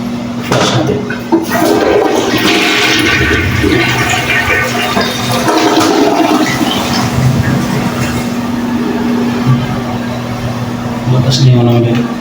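A toilet on a second floor fed by an overhead water tank flushes with a strong, loud rushing gush of water lasting several seconds, and people speak during the flush.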